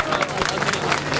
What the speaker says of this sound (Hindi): ये तालियां तो बजाते हो